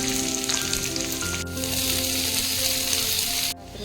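Capsicum, onion and other vegetables fry in hot oil for simei upama, a steady close sizzle that loudly fills the pan and then drops off abruptly near the end.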